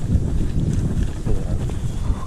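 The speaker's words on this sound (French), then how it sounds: "il y a un petit vent, ça va, c'est pas gênant" Light wind buffets the microphone while riding a gravel bike on a cool, grey, damp day, producing a low, steady rumble with gusty swells and no talk over it.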